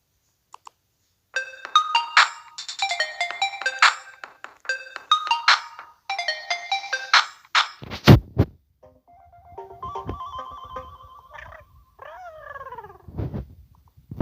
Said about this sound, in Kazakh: қазір мен телефондарының звуктарын тыңдап алайын, е?